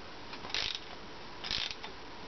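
Ratchet tightening the bolts on a wind turbine mount, two short bursts of rapid clicking about a second apart, close and fairly quiet.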